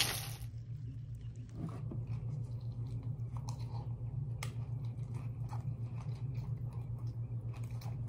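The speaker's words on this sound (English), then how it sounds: "Before I go, I'm gonna eat some cereal." Someone chews cereal close to the mic with repeated crunchy bites and wet mastication over a steady low hum, with no talking.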